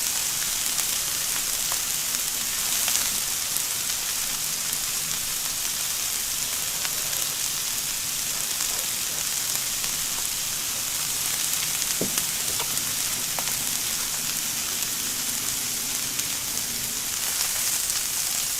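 Shrimp and vegetables sizzle steadily on a grill, a continuous hiss and crackle at even volume with no talking.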